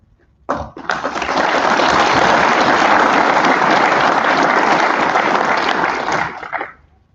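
Audience applause at a military pilot training graduation ceremony, a dense, steady roar of clapping from a large crowd that starts abruptly, holds for about six seconds and fades out.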